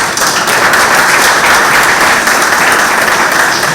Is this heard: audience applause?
yes